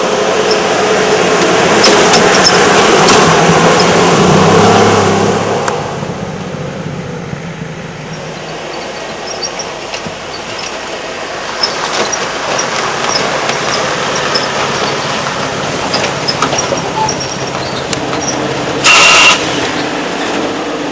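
Land Rover 'tank' engine while driving, a loud continuous rumble and road noise inside the vehicle, heavier for the first five seconds and then a steady drone.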